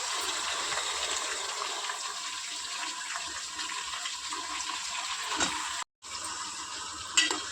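Washed chicken pieces dropped into hot separated oil and stirred, giving a loud, steady hissing sizzle close up, broken by a brief silent gap and a sharp scrape near the end.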